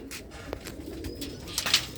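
Several coop pigeons coo in soft, low rolling calls, with a brief bright chirp or scrape near the end.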